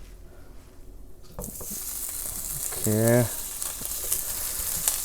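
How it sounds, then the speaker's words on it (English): After a brief spoken word, hot oil sizzles loudly and continuously as paneer frying in a pan crackles close by. "I'll put the paneer in the oil."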